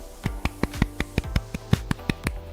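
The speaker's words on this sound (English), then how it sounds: "Golf clap." A golf clap during a livestream: about a dozen soft, sharp hand claps in a steady, quick rhythm, close and alone, with no talking.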